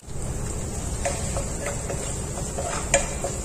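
Green chillies and curry leaves sautéing in a pan, with a continuous close sizzle and repeated light spoon taps and scrapes against the pan, no talking.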